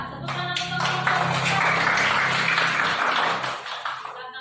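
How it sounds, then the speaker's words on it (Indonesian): A classroom of students claps for a student group, a sustained burst of dense clapping that swells and then tapers off, with some voices mixed in. "tepuk tangan untuk kelompok"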